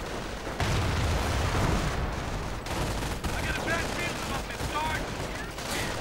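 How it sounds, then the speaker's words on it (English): Grenades bursting amid steady gunfire in a World War II real-time strategy battle, a dense continuous din of blasts and shots with a commentator's voice running over it. "Grenades going off."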